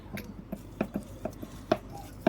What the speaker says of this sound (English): I'm going to give that a good mix.